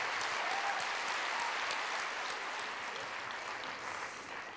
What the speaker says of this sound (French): je crois qu'on peut l'applaudir très fort